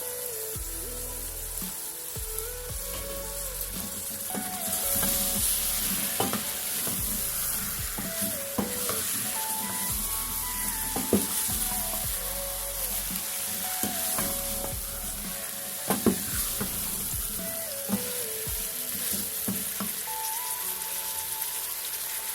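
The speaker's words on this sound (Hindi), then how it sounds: "अब हम इसमें शामिल करने लगे हैं गोश्त को हम अच्छी तरह से भून लेंगे" Mutton stir-fried in a pot with cooked masala for palak gosht, a soft continuous sizzle with regular scraping and clinking of a spoon against the pot, close by and without speech.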